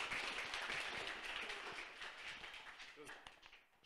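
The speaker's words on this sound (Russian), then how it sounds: "аплодисменты сегодня у нас прозвучали в финале даже без команды" Audience applause breaks out at the close of a talk at the ITPARK FEST 2022 tech festival, a dense, steady patter of many hands clapping that thins toward the end, with some voices mixed in.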